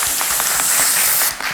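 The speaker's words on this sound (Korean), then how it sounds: "우리 공식적으로 감사하다라는 인사 박수로 우리 드렸으면 좋겠습니다" A church congregation applauds together in thanks after a Sunday worship sermon, a brief burst of clapping from many hands filling the room.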